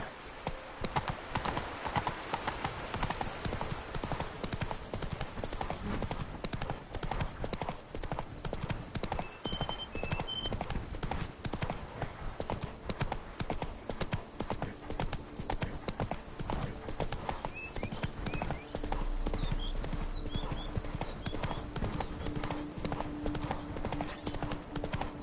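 The horse Roach in The Witcher 3 trotting with a steady, continuous clip-clop of hooves throughout, against a constant game ambience with a few faint bird chirps.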